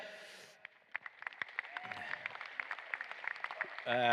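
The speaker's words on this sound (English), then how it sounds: "if we can have a round of applause also for our course builders" A crowd at a briefing for the 2023 UKI US Open gives a round of applause for the course builders, a steady patter of many hands clapping at moderate distance, with speech heard briefly at the start and at the end.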